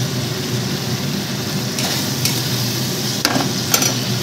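Boiled rajma and a few chickpeas being stir-fried in a pan produce a steady close sizzle broken by several short scraping and tapping strokes of a spatula, with no voices.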